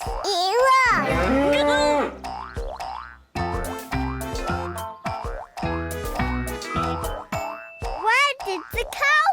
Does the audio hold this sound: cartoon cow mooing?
yes